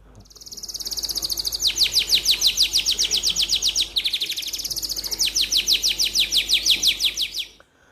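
A canary sings a long, fast run of high, bright chirps and trills, continuous and close, with a short break midway.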